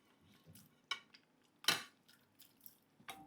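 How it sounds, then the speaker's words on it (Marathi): Cooked mutton tipped into a large heated kadai for Hyderabadi mutton dalcha, giving a few sharp metallic clinks and scrapes of a spoon against the pan with faint sizzling between them, fairly quiet and without talk. "त्यामध्ये घालूया शिजवलेलं मटण."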